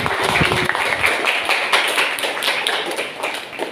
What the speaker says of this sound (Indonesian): Bisa minta tepuk tangannya dulu.